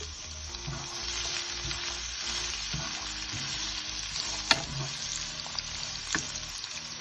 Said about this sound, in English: I will add the garlic and ginger and saute it off really nicely